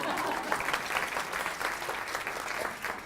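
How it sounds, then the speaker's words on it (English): An audience at a women's awards gathering applauds, a steady wash of hand claps from a large indoor crowd that runs without a break. "you can clap for that"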